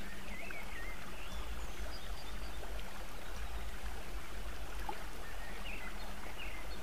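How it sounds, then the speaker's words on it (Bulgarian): Rushing river water runs as a soft, continuous background bed beneath a guided meditation. The flow stays faint and unbroken throughout, with no voice over it. "буйна река."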